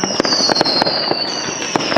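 Outdoor New Year's Eve fireworks crackle and bang in a dense, continuous barrage, with sharp pops recurring every fraction of a second over a steady hiss of distant bursts and a high whistling tone.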